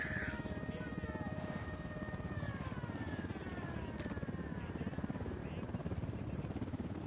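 Attack helicopter in the video game Horizon Zero Dawn, a steady loud rotor drone with a whining tone that slowly falls in pitch, running continuously through the clip under game noise.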